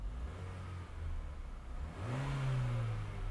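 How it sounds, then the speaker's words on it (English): A 2018 Chevrolet Equinox with a low-power, underboost fault revs once on the throttle, its engine note climbing from a low idle into a loud, rising rumble that holds near the end. "Let me go ahead and hit throttle once."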